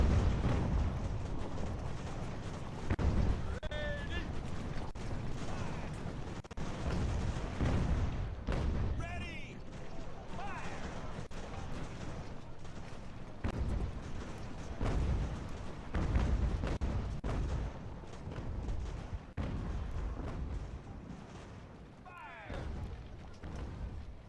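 Cannon fire in the Ultimate General: American Revolution game, with repeated deep booming artillery shots and rumbling volleys through a continuous battle din, heard under someone talking throughout.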